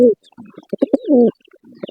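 A male pigeon coos up close in a short, throaty burst of rolling, low notes, then falls quiet with faint softer sounds after.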